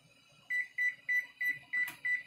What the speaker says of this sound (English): So we want to set the timer